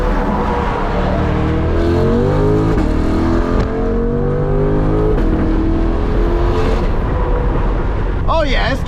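A C8 Corvette accelerating hard in Z mode to merge onto the interstate among 18-wheelers, its engine note climbing through rising harmonics, loud and close, with a brief shift near the end.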